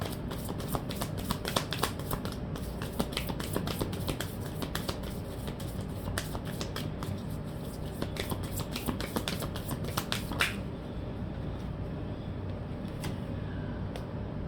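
Tarot cards are shuffled up close in quick, papery riffles and flicks, a dense run of crisp slaps that thins out toward the end, with no talk.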